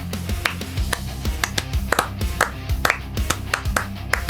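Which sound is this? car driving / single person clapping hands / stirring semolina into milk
single person clapping hands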